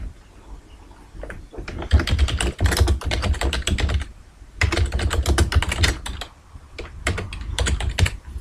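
Computer keyboard keys pressed at a desk in bursts of rapid clicking, close and clear, with short quiet gaps between runs of typing.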